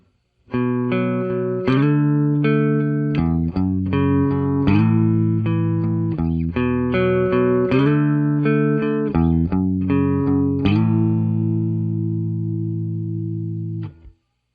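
An electric guitar, recorded through a Rode NT1A condenser microphone, plays a sustained chord riff with strummed hits and ringing notes, ending on a long decaying chord.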